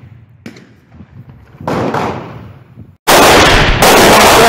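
Gunshots ring out at an outdoor shooting range: a few muffled distant thumps, then a louder rolling report, then a very loud, close, sharp blast that echoes.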